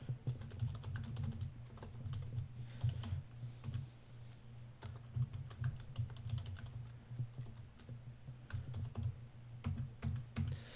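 Quick, steady typing on a computer keyboard as address and station details are entered into ham radio logging software, close and fairly quiet with no talk.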